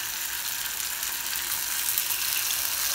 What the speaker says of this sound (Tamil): ஸோ இப்போ நம்ம ஃபிஷ்ஷை வந்து ஃப்ரை பண்ணிடலாம்